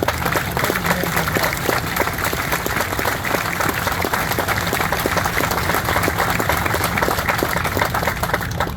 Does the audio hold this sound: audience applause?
yes